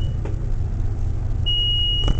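A Schindler traction elevator's alarm signal sounds as a steady, thin electronic tone lasting about half a second, set over a low, constant machinery rumble inside the car.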